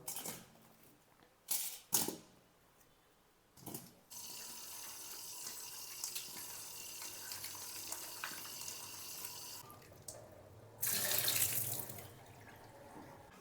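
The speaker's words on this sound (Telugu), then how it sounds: "వీటిని ఒకసారి కడిగేసుకుందాం" Potatoes washed under a running kitchen tap: a steady close stream of water splashing into a sink, broken by a few short handling noises, with a louder gush near the end and no speech.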